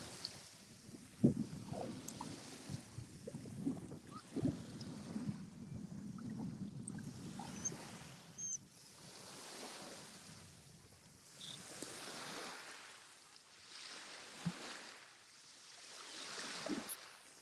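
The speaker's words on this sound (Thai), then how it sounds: "แต่ว่าเสียงลมแรงมากเลยนะคะ" Steady strong wind roaring and gusting by the sea in Spain, with broad rushing noise swelling and fading in waves, with no voices.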